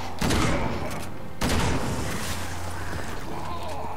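Gunfire rings out in the video game Resident Evil 6, two sharp, loud shots about a second apart followed by a lingering rumble.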